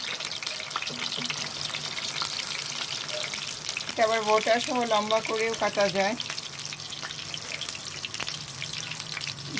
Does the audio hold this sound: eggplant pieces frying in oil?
yes